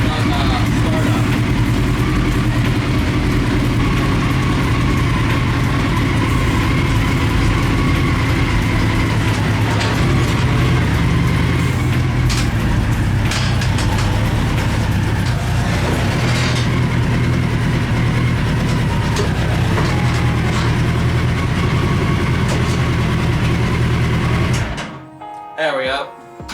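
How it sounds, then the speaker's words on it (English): A mini trophy truck engine idles roughly just after startup, a steady loud low rumble that runs without a break and then cuts out abruptly near the end. "This idle is a little rough on startup."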